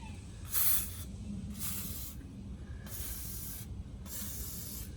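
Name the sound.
spraying penetrating fluid on engine intake valves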